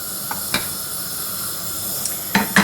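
Butter and water heating in a saucepan for choux pastry, a soft steady hiss with a few light clinks of a spoon or pan, the last two louder near the end.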